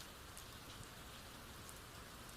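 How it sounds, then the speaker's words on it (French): Steady rain patters against the window panes of a forest cabin, a dense even hiss of drops throughout, close and constant, with no voices. "Le son de la pluie sur les carreaux était revenu, régulier, apaisant."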